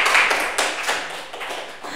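A short burst of audience hand clapping at an Indonesian tax-office talk event in Kebumen, with dense, fairly loud claps for about two seconds and no speech over them.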